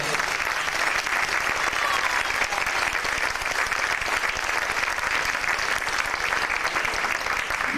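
Loud, dense applause fills a festival hall for Argentine and Dagestani folk performers, a continuous wash of many hands clapping at a steady level throughout, with faint crowd murmur beneath.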